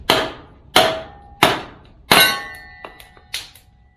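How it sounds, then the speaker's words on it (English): A dead blow hammer drives a kindling cracker to split firewood, landing four sharp, ringing metallic clangs at a steady pace, followed by a few lighter knocks and taps, close and loud with no talking. "A good dead blow hammer is really the only other thing you need."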